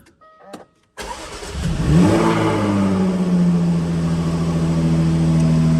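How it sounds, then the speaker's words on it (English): After a brief quiet click, a Jaguar F-Type V6 S engine cranks and catches, flaring up in a rev before settling into a steady idle. "So let's start the engine up"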